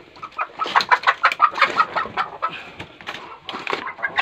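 A village chicken on a farm clucks in a quick, rapid series of close, sharp pulses, with a brief pause before the clucking resumes.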